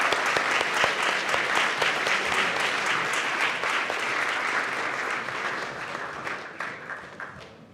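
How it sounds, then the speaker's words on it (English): An audience at a university hackathon closing ceremony gives a round of applause for the winning team, dense steady clapping that slowly tapers and fades near the end. "So can we get another round of applause for those guys?"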